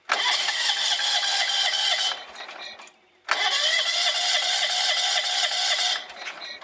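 A Wheel Horse 257H garden tractor engine, freshly fitted with a starter solenoid after water was cleaned out of the gas, runs loud and close, drops off briefly, then starts up again and keeps running.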